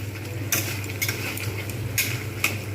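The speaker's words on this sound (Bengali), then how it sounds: "এখন বেশ কিছুক্ষণ ধরে এরকমভাবে আমি কষতে থাকবো" Spoon scraping and knocking against a pan while spice paste fries in oil over medium heat, a low steady sizzle under a few sharp, irregular metallic clinks, close and moderately loud.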